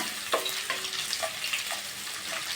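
Chopped ginger frying in hot oil in a pan while being stirred, a close steady sizzle broken by scraping spoon strokes and small pops, with no talk.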